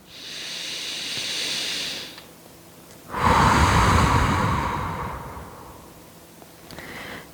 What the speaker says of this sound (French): Une dernière respiration ici.